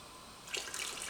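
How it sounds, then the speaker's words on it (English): Water is poured into a sous vide container for smoked prime rib, a brief splashing rush that starts about halfway through and carries on steadily to the end, close and alone. "Okay, and now add the water back"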